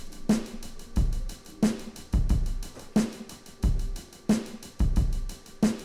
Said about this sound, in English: Snare is just going to be on the 3 and the 7, something simple.